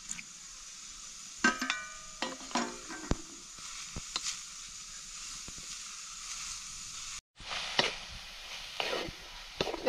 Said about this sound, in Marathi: आता भाजी आपली ती थोडीशी परतून घेऊ.